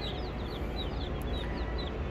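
Chickens clucking and chirping inside a rural farm supply store, several soft repeated calls over a loud, steady background hum of the store.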